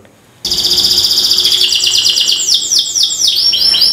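A songbird sings loudly and continuously in bright, rapid trills and chirps, close by, starting abruptly after a brief quiet moment.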